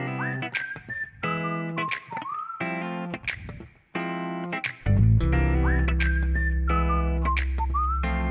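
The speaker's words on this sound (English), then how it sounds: "So probably the first notable thing we have are these two whistles here. These cute little whistles." Two short, bright whistle phrases ride over a full song production, repeating in two loud sections with effects-processed melodic lines and a heavy bass entering midway; no talking.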